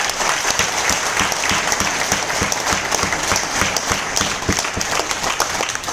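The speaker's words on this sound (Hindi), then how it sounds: "जिनके लिए जोरदार तालियां" Audience at an event gives vigorous applause, a loud, continuous crowd clapping with distinct sharp claps standing out near the front, sustained throughout without speech.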